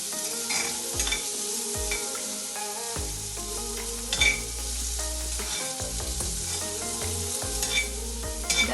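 Onions brown in a pan with a dense, continuous sizzle and occasional spoon strokes, close and steady throughout, with no voices.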